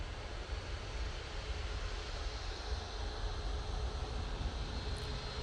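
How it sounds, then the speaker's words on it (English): A Ryanair Boeing 737 MAX comes in from Alicante at Manchester Airport, a close, steady, loud jet engine roar that stays constant for a few seconds with no talking. "Ryanair 737 MAX in front of us."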